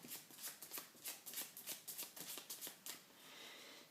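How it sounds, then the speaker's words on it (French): A deck of playing cards being shuffled by a magician's spectator, a quick run of about a dozen crisp riffling bursts close up, ending in a softer continuous rustle. "Donc il prend le paquet et il mélange."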